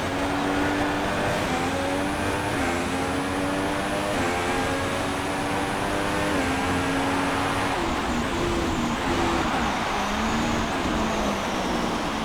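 A Formula 1 car in the racing game F1 2016 cruises on a wet-to-drying in lap at the Canadian Grand Prix, its engine a loud continuous whine stepping up and down through gear shifts.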